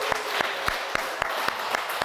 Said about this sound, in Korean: 환영의 박수를 한번 하겠습니다.